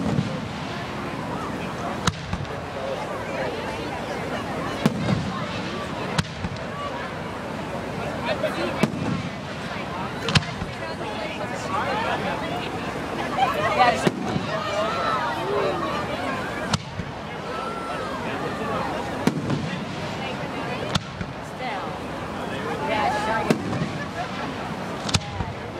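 Fireworks burst repeatedly through a long outdoor show, sharp booms and crackles recurring every few seconds over a steady hiss, with people talking and a Basset hound nearby.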